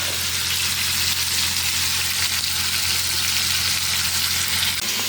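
Meat with onion and carrot sizzles steadily in a frying pan, a loud, continuous hiss with no pauses and no talk over it.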